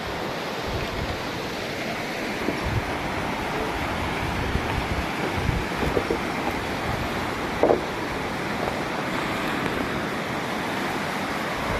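The Koksu river rushes past with a strong current, a continuous dense roar of churning water mixed with wind buffeting the microphone, steady throughout with no voices.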